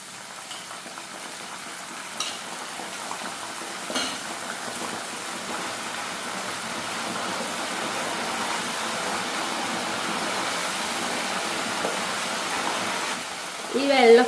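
Tapioca fries in coconut oil after salted water has been poured in. A steady, dense sizzle and bubbling runs throughout, with a sharper burst near the end. Speech can be heard faintly under it.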